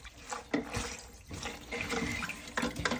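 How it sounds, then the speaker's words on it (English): Water sloshes and squishes as a sponge soaks up the last of it from a toilet tank during a toilet replacement, close and wet with irregular dripping and wringing sounds. "you want to just soak up any remaining water with a sponge or a towel"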